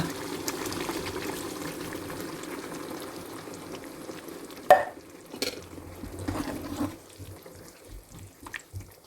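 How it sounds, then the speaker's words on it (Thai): Thai red prawn curry with coconut milk at a low simmering bubble, then a sudden splash as more coconut milk is poured in, followed by scattered stirring clinks and sloshes close by. "ตอนนี้เดือดแล้วนะคะ เราก็ใส่กะทิที่เหลือลงไปเลยค่ะ"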